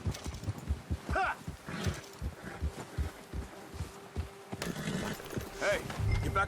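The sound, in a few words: horse galloping in video game Red Dead Redemption 2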